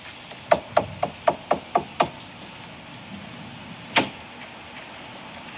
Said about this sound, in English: Let's knock.